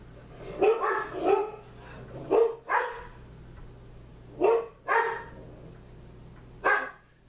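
Dogs barking somewhat distantly in several short bursts, pairs of barks separated by pauses, over a low steady hum.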